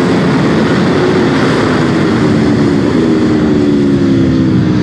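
Aprilia RSV4 Factory superbike from 2021 riding at speed, with a loud, steady engine roar under wind rush and rising tonal bands that break and restart as the quickshifter snaps through gear changes.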